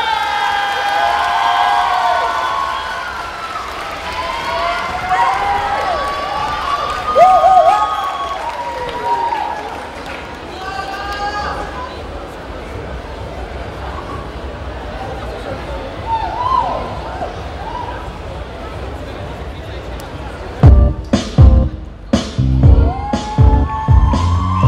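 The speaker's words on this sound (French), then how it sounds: "on leur fait un tonnerre d'applaudissements" A crowd applauds and cheers for cosplayers at a Mangagen convention cosplay show. A loud, steady wash of clapping and shouting builds under an announcer speaking over the room, then ends in a few heavy thumps near the close.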